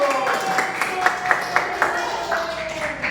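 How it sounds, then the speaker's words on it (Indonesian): Pupils in a sixth-grade madrasa classroom clap for a classmate in a quick, regular rhythm, with crisp claps standing out over voices talking throughout. "tepuk tangan untuk Bapak satu"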